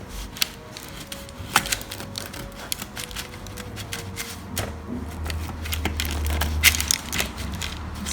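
A knife sawing through a crusty loaf of freshly baked French bread, producing repeated crisp crackling crunches with sharp snaps, close and fairly loud over a low background rumble.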